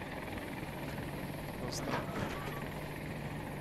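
An attack helicopter in the video game Battlefield 2042 gives a steady rotor roar with a brief swell, all under game noise, while a voice speaks briefly.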